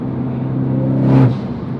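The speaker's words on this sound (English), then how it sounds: "It just sounds so good. That open dump." Mitsubishi EVO X with a stock turbo and open dump valve pulling hard under acceleration, a steady engine drone swelling to a brief loud whoosh near the end, heard from inside the car.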